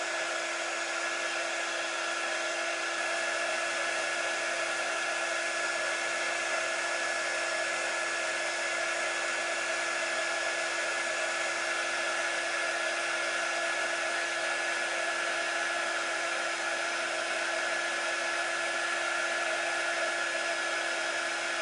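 A hair dryer blows continuously to dry a silk screen before burning, a steady loud whooshing whine that holds constant with no breaks or voices.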